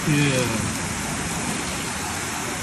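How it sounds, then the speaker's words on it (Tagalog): Heavy typhoon rain during Typhoon Carina, a steady dense hiss of downpour filling the whole clip, with a brief faint voice at the start. "Bigla na naman lakas ng ulan, grabe."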